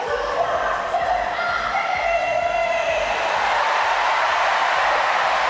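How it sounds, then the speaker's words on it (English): A crowd at a para swimming pool cheers and roars in a broad, steady wash from across a large indoor venue, building slightly over the span, with a commentator talking over it. "The crowd is feeling it."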